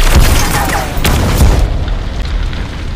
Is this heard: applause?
no